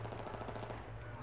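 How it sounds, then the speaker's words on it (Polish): Faint, distant bursts of rapid gunfire in Battlefield 3 crackle steadily under a low hum, with voices murmuring in the background. "Jakieś strzały słyszę."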